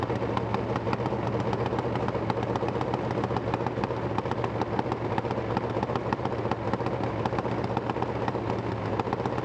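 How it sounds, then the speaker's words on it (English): Nitro-fuelled 175-cubic-inch top alcohol drag racing engine crackling and cackling with a harsh, rapid staccato firing, loud and steady throughout with no talk. "Cackle of that nitro, it is incredible."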